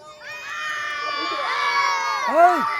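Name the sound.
spectators clapping and cheering at a football match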